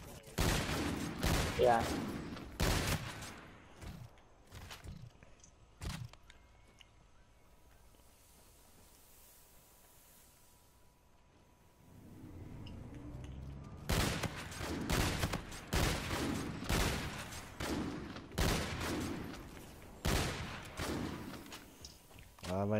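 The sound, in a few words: gun firing two bullets per shot in a video game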